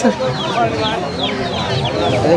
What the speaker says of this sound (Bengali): দেখুন কতগুলো হাঁস মুরগি এখানে আছে